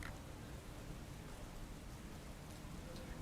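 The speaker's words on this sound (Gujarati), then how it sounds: "મોરવા હડફમાં મોડી રાતથી વરસાદી માહોલ જામ્યો છે" Faint, steady late-night rain in Morva Hadaf, Panchmahal, patters in a soft continuous hiss, distant and even, with a brief louder tap at the very end.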